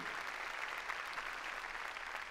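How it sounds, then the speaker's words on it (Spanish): Church congregation clapping hands together during a Spanish-language service, a dense, even patter of many hands heard faintly and steadily throughout, with no speech over it. "Démosle palmas a Él, a Él sea la gloria."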